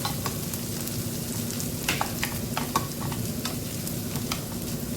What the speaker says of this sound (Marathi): कांदा लाल होईपर्यंत आपल्याला भाजून घ्यायचा आहे